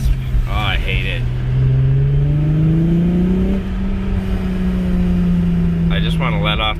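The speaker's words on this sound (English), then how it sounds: "I just want to let off the gas and it not rasp." A manual car's engine rasps loudly as the throttle is lifted, a buzzy rising drone that fades off, with a voice speaking briefly at the start and end.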